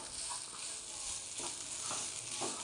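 Sliced plantain-type banana with coconut, sugar and ghee being stirred in a hot pan, giving a soft, steady sizzle with a few faint scraping strokes, close and continuous.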